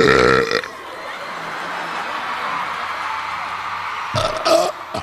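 A long, drawn-out burp from an entry in a belching contest at the 2003 Kids' Choice Awards rumbles for several seconds, framed by short loud bursts of crowd noise at the start and end.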